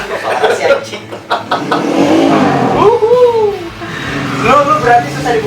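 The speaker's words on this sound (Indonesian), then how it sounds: "terima kasih suara motor Anda yang jelek" A motorbike engine revs in bursts, rising and falling in pitch, loud and close, mixed with people talking.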